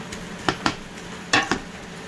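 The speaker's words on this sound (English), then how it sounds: "after frying the garlic and the onion, I added this veggies. I'm now frying the veggies" Vegetables frying in a pan after garlic and onion, a faint sizzle with a few sharp clinks and scrapes of a utensil stirring against the pan, close and brief.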